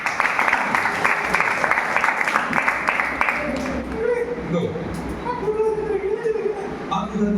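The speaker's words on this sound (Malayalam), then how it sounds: "ക്ലാപ്പ് കൊടുക്കും" Applause from a children's audience at a church puppet show in Cheppad, Alappuzha: dense, steady clapping for the first few seconds, then an adult voice talks over the fading crowd noise.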